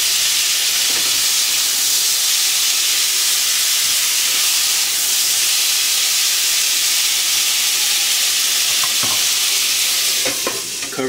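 Okra and tomatoes bubble and sizzle steadily in a hot pan for Pakistani-style kadai bhindi, a continuous frying hiss with faint stirring clicks near the end and no voices.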